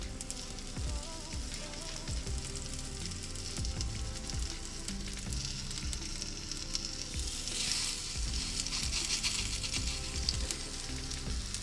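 Sweet corn and courgette fritters frying on a hot skillet give a steady, dense sizzle with crackling spatter throughout, briefly growing louder and brighter near the end, with no talking.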